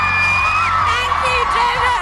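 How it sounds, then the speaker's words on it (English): A large, lively outdoor crowd in South Shields cheers, whoops and yells continuously, loud and close, with excited shouts rising over a steady roar for the whole stretch. "As you can hear, the crowd are going absolutely crazy up here in South Shields"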